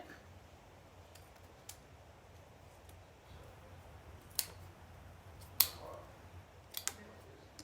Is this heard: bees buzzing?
no